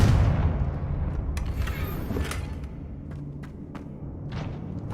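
Confringo fire spell explosions in Hogwarts Legacy: a heavy booming blast at the start rolls into a rumbling tail, punctuated by several sharp cracks and crackles as the fire bursts and fades.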